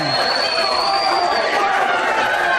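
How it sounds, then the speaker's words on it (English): Dense, steady crowd noise from a wrestling audience at the SFX in Dublin, cheering AJ Styles during an Irish Whip Wrestling match, with a loud, continuous roar of massed voices and no pauses. "this crowd comes alive for the phenomenal AJ Styles here in the SFX in Dublin"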